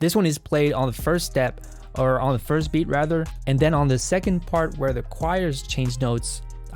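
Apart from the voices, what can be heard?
No everyday noise stands out behind the speech.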